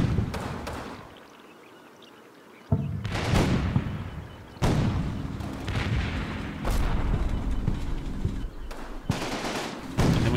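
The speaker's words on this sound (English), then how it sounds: "immediately we have the fire exchange between their squads and our squad" Infantry squads trading gunfire in the Combat Mission World War II strategy game, set in Normandy: sharp shots, bursts and heavy booms at irregular intervals over continuous battlefield rumble.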